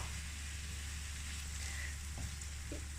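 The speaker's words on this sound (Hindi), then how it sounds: "प्याज हल्का सा फ्राई हो चुका है, अब इसके अंदर डाल देंगे 1 टमाटर" Onion and tomato fry in a pan over a low flame for masala bhindi, giving a steady, close sizzle with faint stirring scrapes.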